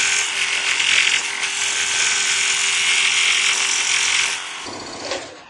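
A Shopsmith scroll saw runs steadily at speed 6 with a bright, high buzzing whine that holds even for about four seconds, then winds down and stops.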